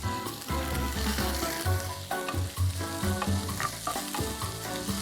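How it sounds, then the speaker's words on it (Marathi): Chopped medium-sized onions sautéing in a pan with ginger-garlic paste, a steady close sizzle with frying crackle and occasional stirring scrapes, no voices. "हे कांदे आपल्याला थोडे गुलाबी होईपर्यंत परतायचे."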